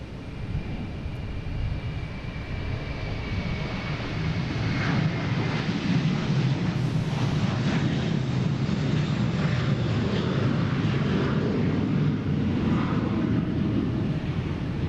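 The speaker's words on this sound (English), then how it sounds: "We have American Airlines heading to Charlotte, an A321." American Airlines Airbus A321 jet taking off from Boston Logan, a loud, steady broadband engine roar with deep rumble filling the whole stretch, no talk over it.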